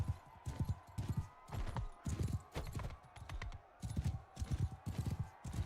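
Horse hooves clip-clop steadily in Mount & Blade Bannerlord, a regular galloping rhythm of close thuds running throughout, with a faint whinny and some talk heard under the game sounds.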